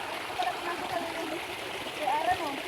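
Stream water rushing steadily near a waterfall on a freshwater trek, with a broad, continuous wash at moderate level and faint voices beneath.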